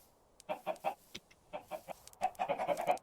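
Chickens in the Minecraft video game, a run of short clucks in quick uneven bursts, close and clear, with no talk.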